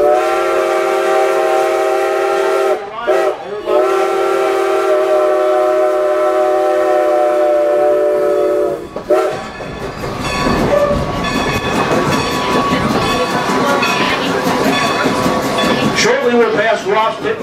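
Steam engine Strasburg Railroad #90 sounds a long, loud, sustained whistle with brief breaks, then the passenger train rolls on with rhythmic rail clatter and rumble as a voice talks over the ride.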